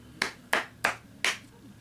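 Four sharp hand claps played as a short rating sound effect, crisp and close, spaced unevenly over about two seconds with quiet between them.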